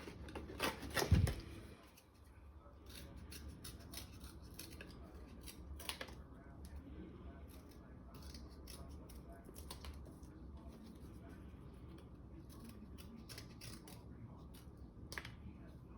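Scissors snip out paper leaves for a home craft, a short burst of close cutting near the start followed by faint scattered clicks and rustles over a low background hum.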